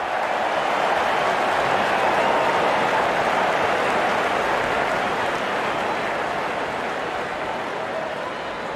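Crowd applause in the cricket game Real Cricket 24 follows a six and a half-century as a continuous, even wash of clapping that holds steady and fades only slightly.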